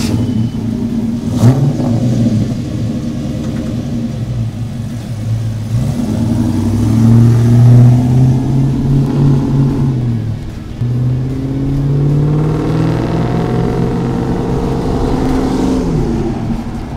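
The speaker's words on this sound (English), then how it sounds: "This is a nice 6-liter Vortec V8, and it is a nice one. For a good old-fashioned startup." A 1987 Chevrolet K-10 pickup with a 6-liter Vortec V8 rumbles loudly nearby, revving up and down in repeated swells, with deep engine tones rising and falling over roughly seventeen seconds.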